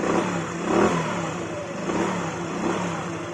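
A cold scooter engine idles on weak, low revs, its steady mid-pitched drone wavering and sagging as though about to stall, heard close with no talk.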